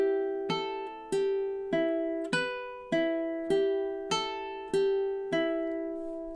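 A ukulele fingerpicks two measures of a gentle Hawaiian song, eight evenly spaced plucked notes ringing out and decaying one after another, soft and close with no voices.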